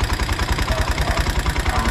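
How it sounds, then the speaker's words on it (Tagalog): A Honda XR200 motorcycle with a noisy engine idles up close, giving a fast, even low thumping pulse with a mechanical clatter on top. "Mahinga yung makina"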